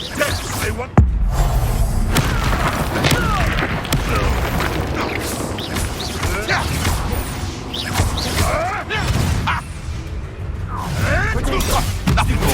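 A fire spell blast in Hogwarts Legacy, a loud booming burst with whooshing, crashing combat effects that continue densely throughout.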